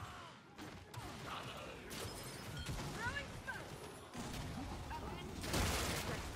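Gunfire in the game Gears 5 crackles through a busy battle mix, several loud shots and bursts scattered over the clip amid other game noise, with a player's voice talking at times.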